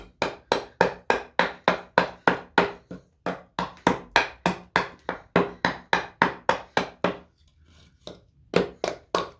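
A hatchet chops cedar wood to rough in a carved leaf, with about thirty sharp, close, evenly paced strikes, a brief pause of about a second, then a few more blows.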